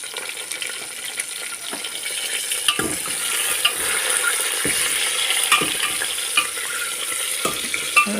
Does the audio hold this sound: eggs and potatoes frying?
yes